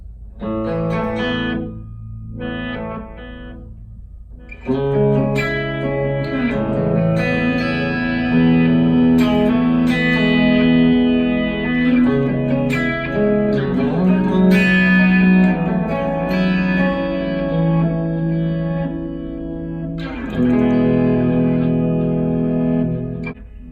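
Electric guitar runs through a Boss DD5 delay pedal on its reverse setting, producing clean picked notes with backward, swelling repeats that blur into a washy, echoing texture over about twenty seconds.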